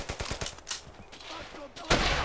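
Gunfire in the World War II shooter Brothers in Arms: Hell's Highway: a rapid string of sharp shots, then bursts of automatic fire and a loud blast near the end, with a voice shouting over the battle.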